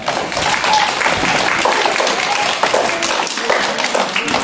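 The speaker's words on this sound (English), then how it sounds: "I want to give everybody a round of applause for helping us." An audience at a church teaching session claps in a dense, continuous round of applause, loud and close throughout.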